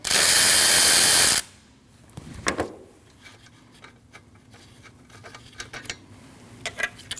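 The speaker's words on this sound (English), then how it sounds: "Now you want to remove your nut for the wiring. That's a 13mm nut." Ratchet clicks in short bursts while a 13mm alternator wiring nut is backed off on a 2003-2008 Subaru Forester 2.5L H4. A loud burst comes first, then quieter intermittent clicking and ticking, close by.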